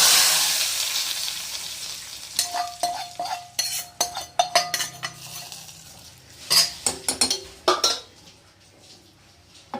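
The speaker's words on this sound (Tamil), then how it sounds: "நம்ம தாளிச்சிட்டோம். இப்போ ஊற்றிடுவோம்." Hot tadka tempering with dried red chillies and curry leaves poured into Tamil dal kulambu, giving a short sizzle followed by a series of clinking metal ladle and pot knocks and stirring sounds, close up with no talk.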